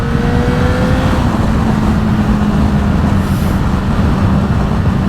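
A car accelerates steadily while scrubbing in new tyres, its engine and road noise droning loud and close from an onboard position, with a faint rising whine over the constant rumble.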